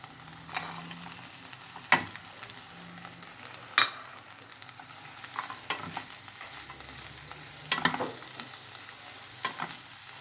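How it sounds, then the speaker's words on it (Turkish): Okra and chickpeas cooking in a pan, with soft sizzling beneath and a few sharp scrapes and clatters of a utensil stirring at irregular intervals. "Biraz karıştırıp nohudunu koyalım."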